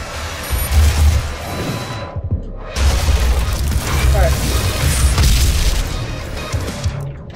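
Rockets fired in rapid succession and exploding in the video game Doom, a dense run of loud booms and crashes rolling almost without a break, with game sounds and a voice mixed underneath.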